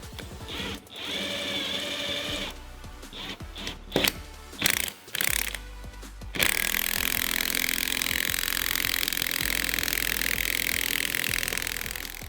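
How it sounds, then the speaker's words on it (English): Strut coil spring squeezed in a spring compressor while fitting KONI parts to a lowered 2015-2022 Mustang S550: a run of ratcheting, clicking mechanical noise with short bursts, then a steady loud whirring drone that carries on to the end. "you will need a spring compressor"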